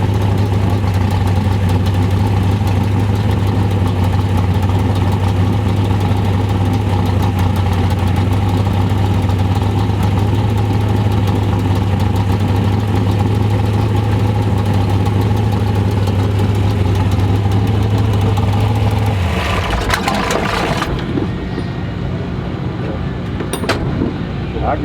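Race wagon engine running in the pits with a rattling header, a loud, deep steady idle with a strong low hum that cuts out near the end, followed by brief clatter and quieter noise.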